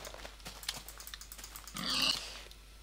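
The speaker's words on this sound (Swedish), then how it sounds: "Ja, gris." A pig in the Minecraft video game gives a short grunting oink near the end of a quiet stretch, preceded by faint clicking keyboard taps.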